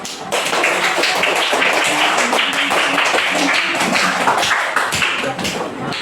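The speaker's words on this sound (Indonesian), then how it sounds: "silakan tepuk tangan dulu" Classroom applause from pupils during a teaching session, dense rapid hand claps that start abruptly and continue loud and close for several seconds before easing slightly near the end.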